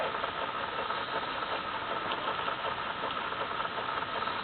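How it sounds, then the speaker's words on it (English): A rebuilt Atlas stationary engine runs steadily at close range, a continuous mid-pitched mechanical chug and rumble with no pauses and no voices. "Lovely engine."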